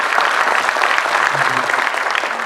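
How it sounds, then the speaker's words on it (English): Audience applause at a youth conclave, a dense steady wash of clapping from a crowd that holds loud and even throughout, with faint murmuring mixed in underneath. "I think we deserve a clap for that"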